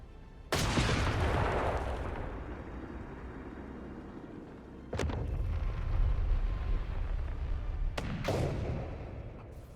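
Heavy artillery fire in the strategy game Company of Heroes 3: three deep, booming blasts, each with a long rumbling decay and crackle. There is no talk.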